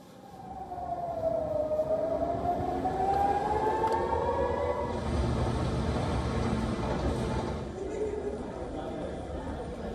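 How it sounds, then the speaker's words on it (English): Air raid sirens wailing in Tel Aviv, a long rising and falling tone sounding for several seconds over a murmur of voices and street noise. "In Tel Aviv, Israelis could be seen taking shelter as sirens sounded in the background."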